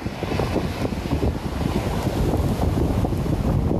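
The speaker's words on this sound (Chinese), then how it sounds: "惊涛巨浪翻过防波高墙，海水往防波堤灌，接踵而来的海浪一波比一波还凶猛。" Typhoon Lupit's outer circulation whips up huge waves at Fugang fishing harbor, loud continuous roaring surf and gusting wind buffeting close without pause, no voices present.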